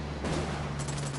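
Brief gunfire in Ghost Recon Wildlands, a short, moderately loud volley of overlapping shots over a low steady hum, with no voices.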